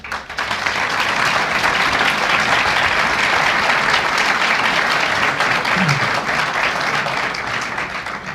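A lecture audience at a cultural association event breaks into loud, sustained applause, a dense wash of clapping that swells quickly and holds for several seconds before starting to fade.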